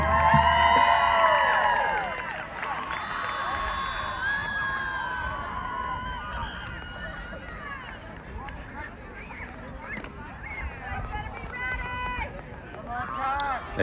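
At a high school football game between Caddo and Dewar, a stadium crowd cheers and applauds for the Caddo cheer team, with shouted voices rising over a broad, continuous crowd rumble.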